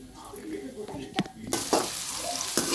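Spices for a rice tempering crackle and sizzle in a hot pan, with a bright burst of frying hiss partway through, a few stirring clinks, and faint voices in the background.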